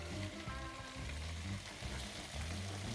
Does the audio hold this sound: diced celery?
yes